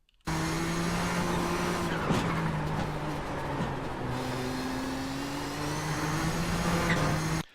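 Nissan GTP ZX-T prototype race car in iRacing at Mid-Ohio, its engine droning steadily at high revs with shifting pitch through a sequence of corners, loud and continuous without any talk.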